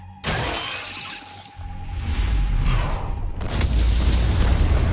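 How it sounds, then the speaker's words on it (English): Explosions echo through underground ant tunnels in the Solo Leveling: Arise video game, starting with a sharp shattering crack followed by a sustained rumbling boom that swells again partway through, loud with no speech. "Looks like fireworks are going off in the ant tunnels."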